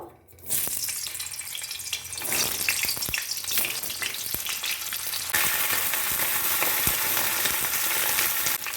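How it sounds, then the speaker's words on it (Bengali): Potato and cauliflower hit hot mustard oil in a kadai and burst into a loud, dense sizzle that crackles on. It grows even stronger partway through, close and with no speech. "প্রথমেই আমি আলু ফুলকপিটা ভেজে নেব"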